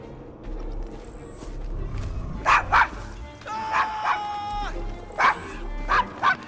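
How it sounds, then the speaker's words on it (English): Several short, sharp dog barks from Desmond, a pet dog in Victorian London's Devil's Acre in Assassin's Creed Syndicate, come in two-bark bursts over a low background murmur. "Is your dog quite all right?"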